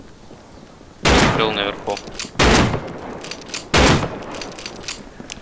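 Three loud, sharp shotgun blasts from the video game Rust, spaced about a second apart, each with a short ringing tail, with someone speaking briefly between them.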